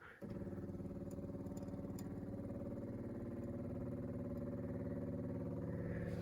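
A 1963 International Loadstar 1800 truck engine, revived after more than twenty years, cranks and catches, then settles into a steady, rhythmic, lumpy running thrum, close and continuous with no talk.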